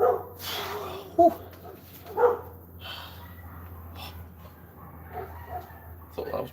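A dog barks outdoors among trees, a few short, separated barks and yips spread through the clip, fairly distant, over a low steady hum and some faint voices.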